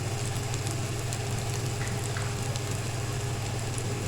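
Potato sticks coated in gram flour fry in oil over a low flame, giving a steady, dense sizzle and crackle that stays close and even, with no voices.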